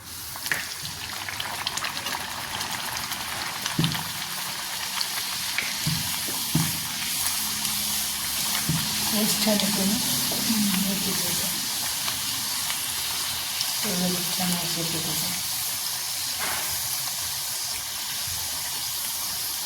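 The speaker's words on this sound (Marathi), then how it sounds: "अशा मी सगळ्या पुऱ्या आता तळून घेणार आहे" Methi puris deep-frying in oil, a steady hiss and bubbling sizzle that lasts throughout, with a few soft clinks and splashes between stretches of frying.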